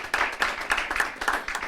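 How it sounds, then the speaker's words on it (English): Light round of applause for a new member at a school board meeting, a small group clapping in quick uneven bursts, moderately loud and close, with no talk over it. "let's give Mr. Connolly a little round of applause there"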